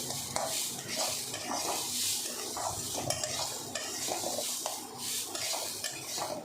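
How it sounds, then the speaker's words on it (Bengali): A spatula stirs masoor lentils frying in mustard oil in a pan, with steady sizzling under repeated scraping and clinks of utensil against metal, no voices. "ডালটা অনাবরত নাড়তে থাকতে হবে না হলে ডালটা কোনো কোনো জায়গায় ভাজা হবে আর কোনো কোনো জায়গায় ভাজা হবে না"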